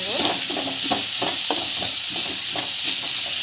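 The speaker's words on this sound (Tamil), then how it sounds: "ஸோ நல்லா வதக்கிக்கோங்க." Grated carrot with curry leaves, green chilli, asafoetida and salt sautéing in a pan: a steady hiss and sizzle with repeated scraping stirs of a spatula, close and continuous.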